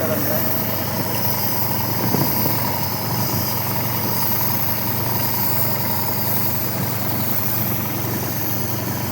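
Tractor-mounted pesticide sprayer running steadily in a tall pigeon pea field, a continuous mid-low engine drone throughout at moderate distance.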